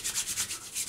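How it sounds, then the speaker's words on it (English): Shaving balm being rubbed between palms, a quick run of soft, close, rhythmic swishing rubs, quiet and without voices. "Just rub it in my palms,"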